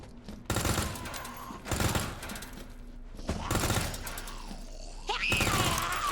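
Gunfire from a gun in a video game: loud, close bursts of rapid shots repeating every second or two, with mechanical clatter and rumble between bursts.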